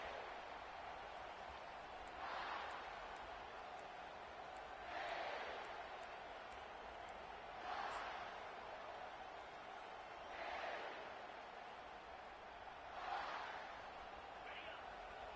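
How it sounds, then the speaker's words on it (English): Stadium crowd in the NCAA 25 college football video game, a continuous roar with swells every few seconds, heard under an ongoing commentator's voice. "listen to the roar of this crowd"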